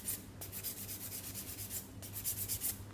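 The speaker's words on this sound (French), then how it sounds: "Je vais polir le reste de l'ongle." A fingernail is buffed to remove semi-permanent nail polish, a soft, close scratchy rubbing in quick rhythmic strokes that continues throughout with no speech.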